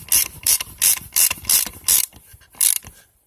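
A ratchet tightens the bolts on a Honda G22 VTEC oil pump, about seven quick bursts of clicking in an even rhythm, close and loud, then stopping.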